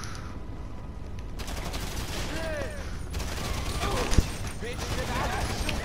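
Gunfire in Grand Theft Auto V, a dense spray of shots over a busy game soundscape, with one sharp, louder crack standing out near the end.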